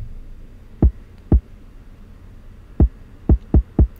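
A kick drum plays back in Logic Pro X with its EQ turned off: six short, deep, dull thumps in an uneven pattern, alone over a quiet background hum.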